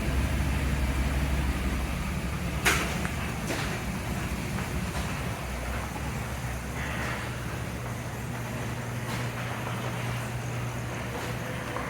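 A 1965 Ford Thunderbird resto-mod fitted with a 500 cubic inch Cadillac engine idles steadily, a low, even rumble that holds throughout, with a brief sharp knock partway through.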